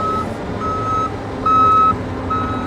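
Steady reversing alarm beeps from a 2018 John Deere 333G rubber track skid steer loader, a 100 HP high-flow machine, sounding in a regular rhythm of tones with one longer held beep, close and loud over a low engine rumble.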